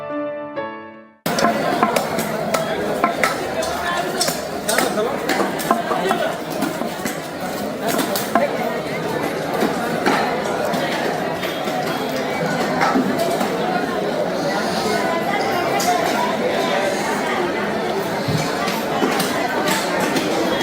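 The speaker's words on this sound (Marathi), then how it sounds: "खूब तेंपान मार्केटान मातशी गर्दी आहा न्ही गो आज." Busy crowd chatter fills Panaji's fish market, a dense, continuous hubbub of many voices and clatter, loud and close, starting abruptly after a brief musical jingle.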